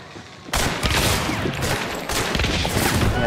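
Shotgun fire in Hunt: Showdown: loud, dense blasts beginning abruptly, with a second heavy report partway through, over continuous rumbling game noise.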